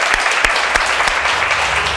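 Steady studio audience applause on a Turkish daytime talk show, dense and close, with individual claps standing out from the continuous patter.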